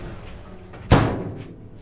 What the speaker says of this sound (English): We use this for the sound for opening and closing a door of a car